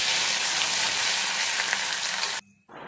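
Crushed garlic and green chillies sizzle loudly in hot mustard oil for a Taro stolon dish, a strong steady frying hiss that cuts out abruptly near the end and returns briefly.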